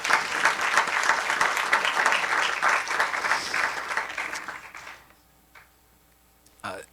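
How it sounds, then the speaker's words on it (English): Audience applause at a council meeting fills the room for about five seconds, a dense crowd clapping that thins and fades into near silence, followed by a single soft knock at the end. "I'd like to just give you one more round of applause"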